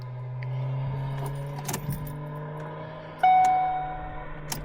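A broken-down Ford Focus with an overheated transmission is cranked on the roadside: a steady low drone, scattered clicks and rattles, then a sudden louder whine that fades without the engine catching.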